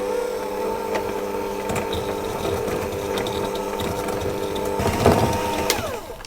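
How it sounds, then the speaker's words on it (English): An electric hand mixer beats sugar and butter together for a cake, giving a steady close motor whir with a faint rattle of beaters against the bowl and a brief scraping surge near the end. "I'm going to mix that with my hand mixer"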